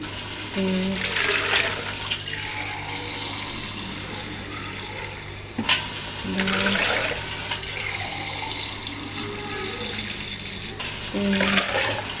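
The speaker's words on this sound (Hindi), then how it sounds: "इसमें हम पानी डाल के रख लेते हैं" Water running and splashing steadily into a vessel of rice, a continuous wet gush, with a person speaking intermittently over it.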